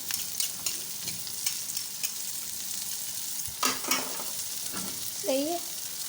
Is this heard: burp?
no